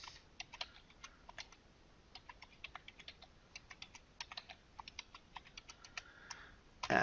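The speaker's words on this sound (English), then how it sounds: "I'm going to go back in here and type something." Typing on a computer keyboard gives irregular bursts of crisp, close key clicks over a faint background hiss, with brief pauses between groups of strokes and no talking.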